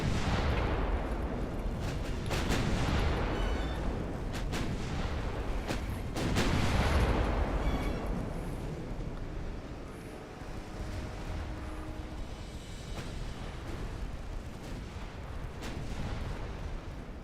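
Naval guns fire in a warship battle game at night, heavy booming salvos rolling one into another with deep rumbling tails, loud and continuous, with several sharper blasts standing out early on.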